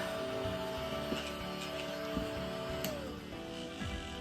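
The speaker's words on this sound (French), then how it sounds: "Ça fait bien du bruit. Ça a l'air à aspirer" A small novelty vacuum gadget bought on Temu runs with a steady whirring motor hum and faint intermittent ticks and clicks, moderately loud and close, with no talk over it.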